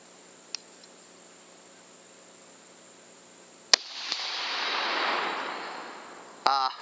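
A single sharp rifle shot fired while sighting in a rifle wearing an ATN X-Sight 4K Pro scope, followed by a hissing rush of noise that fades away. A second crack comes near the end, with no talking in between.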